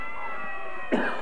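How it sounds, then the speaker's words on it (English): In a radio play, a single short, rough cough bursts out near the end, following a steady background hum with no talking. "I'm coughing up blood."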